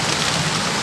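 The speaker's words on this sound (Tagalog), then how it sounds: "Tanawa na sa ulan, no?" Steady rain pours down outdoors in a continuous, loud, even hiss with no pauses, close and filling the whole moment without voices.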